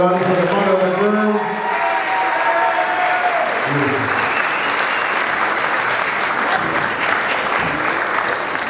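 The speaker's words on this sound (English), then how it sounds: "A nice round of applause, everybody" Loud, dense audience applause at a live performance, swelling over a brief fading musical tone at the start and then holding steady and close for several seconds.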